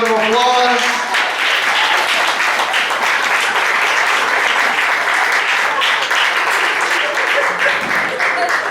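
A homecoming audience bursts into sustained, loud applause and cheering for performers on stage, a dense wash of clapping that holds steady for several seconds after brief talk at the start.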